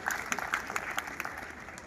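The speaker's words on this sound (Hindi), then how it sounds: "उनको लिए भी मैं आप सभी से विनती करता हूँ कि एक बार जोरदार ताली हो जाए।" An audience at a memorial blood donation camp applauds retired soldiers, a short burst of fairly faint, dense clapping with voices mixed in.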